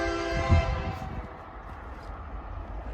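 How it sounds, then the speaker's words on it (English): A loud train horn blares for about a second, then fades, leaving a low rumble of the passing train, heard from a classic car junkyard in California. "Train's coming by. Hi, train. That's a really loud whistle."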